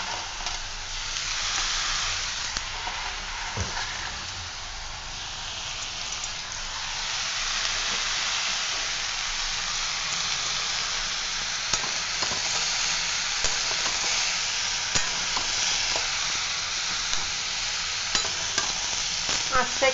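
Winter vegetables and bori (sun-dried lentil dumplings) fry in a pan for a Bengali chorchori, with a steady close sizzle and repeated scraping strokes of a spatula stirring throughout.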